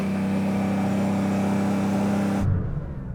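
Porsche 911 engine held at steady high revs in launch control, a loud continuous drone that cuts off abruptly near the end, dropping to a quieter settling tone.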